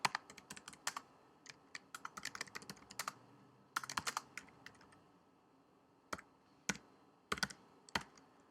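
Quick bursts of typing on a computer keyboard, close and fairly quiet, with irregular clusters of key clicks separated by short pauses and no talk.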